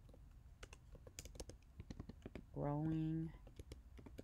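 Quiet clicks of typing on a computer keyboard patter irregularly, soft and close, while a person talks over them.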